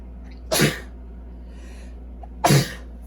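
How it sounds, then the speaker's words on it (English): Two loud sneezes from one person indoors, spaced about two seconds apart, each a sharp burst standing alone over a quiet low hum. "Oh, I gotta sneeze."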